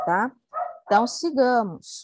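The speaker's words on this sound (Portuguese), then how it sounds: "Vocês estão escutando um cachorro latindo?" A dog barks several times in short yappy bursts from inside or outside a home, heard under a teacher's ongoing speech in a lesson.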